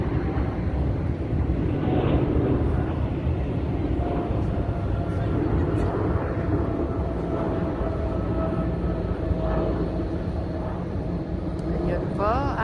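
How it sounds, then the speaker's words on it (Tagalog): An airplane takes off at Vienna International Airport, a steady broad engine roar carrying through the whole stretch while people talk nearby. "Ayun po, may eroplanong lumipad."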